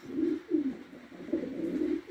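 Pigeons at a Polish loft of pedigreed racing birds, Janssen and other breeds, coo in low rolling phrases, two or three soft bursts close by with no talking.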